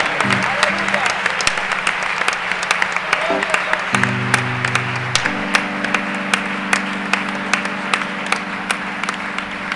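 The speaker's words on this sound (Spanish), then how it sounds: "Recibe ese aplauso fuerte." A church congregation at a worship convention claps along in a steady, sharp rhythm under sustained music and voices, the beats even and prominent throughout.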